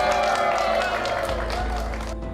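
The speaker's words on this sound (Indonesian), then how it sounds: "Tepuk tangan sekali lagi." Audience applause during a live Pinocchio storytelling show, a dense steady wash of many hands clapping that fills the room at a loud, even level throughout.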